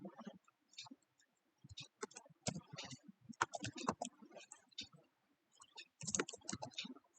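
Rapid, irregular clicking of computer keyboard keys in bursts, close and fairly loud, with short pauses between runs of typing and no talking.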